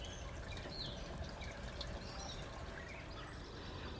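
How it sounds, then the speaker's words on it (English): Birds chirp faintly in a cottage garden over a soft, continuous trickle of water, all quiet and distant with no talking. "isn't it just wonderful to be out here and hear the birds and the sound of water?"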